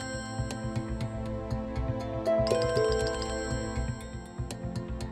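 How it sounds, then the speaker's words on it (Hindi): A phone rings repeatedly in an electronic melodic tone, fairly close, with a few clicks and taps in the room around it. "ये लो, फिर से फोन बज गया।"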